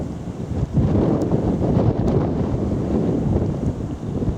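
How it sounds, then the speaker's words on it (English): Gusty wind rumbles into the microphone on a countryside circular walk near Sevenoaks, a loud low steady roar that swells after a brief softer start and keeps blowing throughout, with no voices. "wind is certainly gusting."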